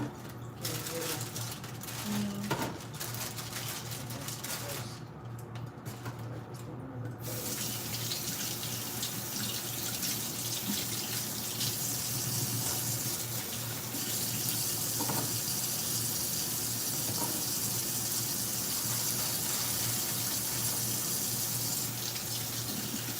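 Tap water runs steadily into a kitchen sink while cut-up chicken pieces are rinsed for curry, a continuous close gush with occasional handling splashes throughout.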